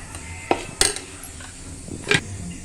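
A spoon tapping and scraping against a bowl as a spoonful of semolina goes in for traditional Konkan ras khaproli batter, with a few sharp clinks standing out over quiet background.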